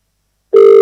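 A steady, loud electronic telephone tone sounds abruptly after a phone call disconnects, following a moment of silence, and holds unbroken to the end.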